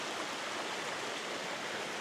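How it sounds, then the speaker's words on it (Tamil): Water from a waterfall rushes down a stream on a trek in Mexico, a steady, broadband hiss with no voices. "ஃபால்ஸ்லேருந்து வர தண்ணி"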